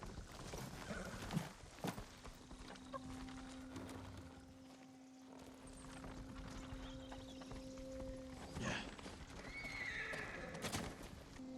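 Horses in the video game Ghost of Tsushima neigh and whinny while hooves clip-clop along, with a sustained tone droning in the background.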